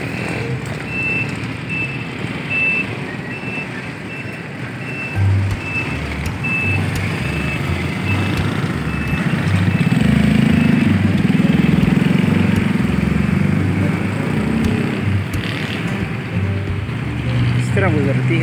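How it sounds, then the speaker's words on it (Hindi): Slow traffic crawling over a broken, unpaved road near a flyover: a steady loud rumble of engines and vehicles with a repeating reversing beep, continuous throughout, with voices talking over it. "कितनी स्लो ट्रैफिक गुजरती है यहाँ से।"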